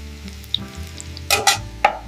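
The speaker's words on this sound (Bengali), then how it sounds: "প্রথমে তেলে তেজপাতা আর এলাচ দিয়ে সুন্দর ফোড়ন তুলে নিই।" Bay leaf, cardamom and onion fry in hot oil, giving a close sizzle with sharp pops and crackles that burst loudly in a cluster near the end.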